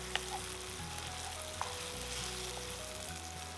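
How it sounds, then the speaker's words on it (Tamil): Onion, tomato and chilli masala sautéing in a pan, a soft continuous sizzle with a couple of faint taps, quiet and close, under a low background hum. "நல்லா வதங்கட்டும்."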